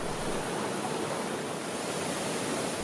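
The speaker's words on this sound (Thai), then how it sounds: "เป็นน้ำตกขนาดใหญ่" Large multi-tiered waterfall at Pala-U in Kaeng Krachan National Park, Thailand, cascading down fifteen rock steps, gives a steady, dense rushing roar that stays even throughout with no voices.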